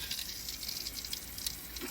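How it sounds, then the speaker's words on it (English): Water rushes through a lawn sprinkler main line just after the outlet valve is slowly opened, a faint, steady hiss and gush with light rattling, no talking. "Now we're going to open the outlet valve slowly, and we should hear water rushing."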